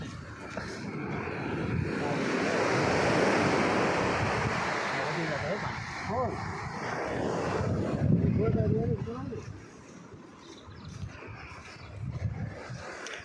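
Sea waves surging onto the shore, a broad rushing wash that swells and recedes, heard outdoors with wind buffeting the microphone and people talking over it.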